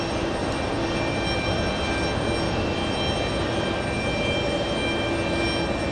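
A big jet departs at JFK airport, its engines a loud, steady, broadband roar that holds near and constant throughout, with no talking.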